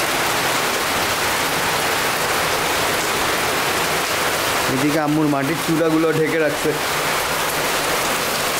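Steady, loud rain pours down in a rural home yard, a constant wash of hiss throughout, with a voice speaking briefly over it midway.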